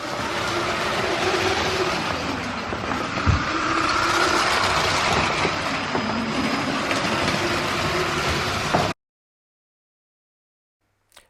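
A LEGO train rolls along its plastic track with a steady rumbling clatter and motor whir for several seconds, one sharper knock partway through, then stops abruptly into silence.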